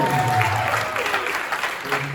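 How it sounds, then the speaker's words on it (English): Audience clapping for dancers at a high school stage hypnosis show, a moderate wash of applause with a voice and some tonal sound over it, short and fairly close. "applause for our dancers."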